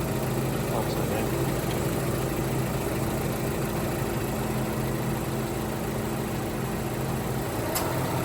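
A Honda Civic engine idles steadily and close by as the AC compressor kicks on, a constant low rumble with a faint click near the end.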